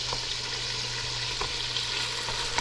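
Boneless chicken thighs fry in butter and oil, a steady close hiss of sizzling with a few faint pops and stirring clicks over the short stretch, and no voices.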